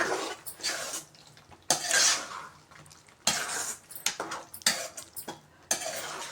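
Chopped coriander is stirred into tomato chutney in a pan. A spoon scrapes and clinks against metal in short uneven bursts with quiet pauses between them, close by, with no talking.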